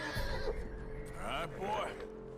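A horse in the video game Red Dead Redemption 2 whinnies and snorts close by, mixed with someone speaking over it.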